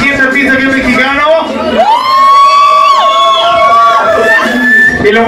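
Audience at an underground event cheering, whooping and shouting together, loud and close, with long rising and sustained vocal cries layered over crowd noise.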